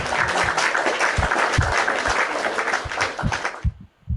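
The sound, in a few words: church congregation applause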